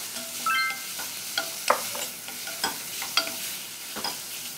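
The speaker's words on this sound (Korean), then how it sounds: "달달 볶아주세요." Beef stir-frying in sesame oil for Korean seaweed soup gives a soft, quiet sizzle with scattered light clicks and scrapes as it is stirred around the pot.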